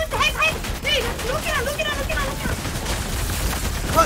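Gunfire in Fortnite crackles in rapid bursts beneath excited, overlapping talk from players, a constant layer of shots and impacts that runs throughout.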